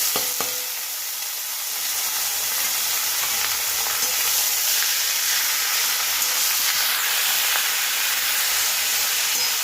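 Fish head dropped into hot mustard oil for Bengali radish ghonto, an initial crackle settling into a steady loud hissing sizzle that continues close throughout, no talking.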